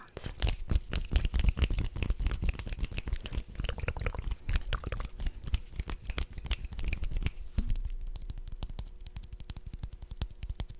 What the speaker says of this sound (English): I love hand sounds like this.